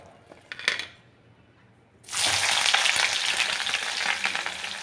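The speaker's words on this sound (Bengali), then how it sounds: "এবার এর মধ্যে যে তেল ছিল তেলটা একটু কমিয়ে নিয়ে তার মধ্যে আমি পেঁয়াজ দিয়ে দেব।" Onions drop into hot oil in a pan. After a quiet stretch with a brief clatter, a loud sizzle bursts in and keeps going strong and close.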